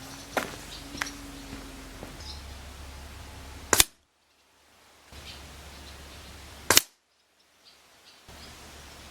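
Two sharp, close shots from an HW100T air rifle fired during rat pest control, spaced about three seconds apart against a quiet background.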